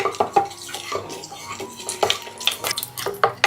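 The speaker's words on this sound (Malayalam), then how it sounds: "ഇനി ഒരു കഷ്ണം പട്ട, 2 ഏലക്ക, അതുപോലെ തന്നെ 2 ഗ്രാമ്പും കൂടെ ചേർത്തിട്ട് ഒന്ന് ഇളക്കി ഒന്ന് മൂത്ത് വരുന്നത് വരെ ഒന്ന് ഇളക്കി കൊടുക്കാം" A metal spoon stirs a cinnamon piece, cardamom pods and cloves frying in coconut oil in a cooker, giving quick irregular clinks and scrapes against the pot, close and fairly clear.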